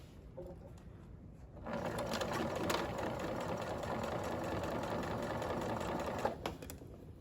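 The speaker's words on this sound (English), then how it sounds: "now I am going to sew this at what seam allowance again?" A sewing machine stitching a French seam starts after a quiet moment and runs as a steady, close mechanical whir and rapid needle chatter for several seconds, then stops.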